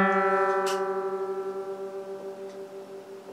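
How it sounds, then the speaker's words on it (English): Two guitar strings ring together while being tuned up, their slow beating warble pulsing steadily and easing as the pitches converge, clear and close with no talk. "But now listen to the warble of the 2 strings as I tune up."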